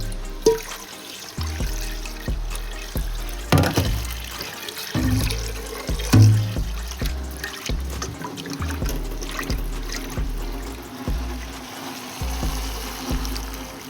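Water is poured into a pot of Jamaican-style curry chicken as it cooks, giving a steady close trickle and splash with scattered clinks and knocks of the pot throughout, no talking.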